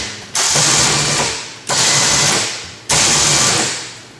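An electric winch motor on an ATV spooling cable, three loud whirring runs of about a second each, separated by short pauses, close up.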